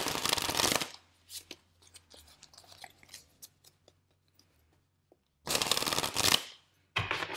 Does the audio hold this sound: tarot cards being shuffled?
yes